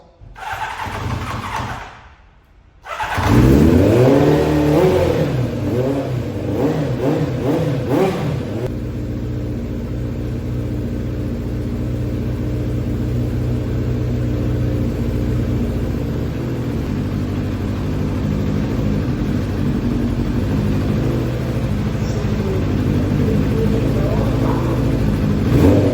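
A Kawasaki GPX 600 R motorcycle engine cranks briefly, pauses, then fires and settles into a loud, steady run with rising and falling revs close by; voices can be heard over the start.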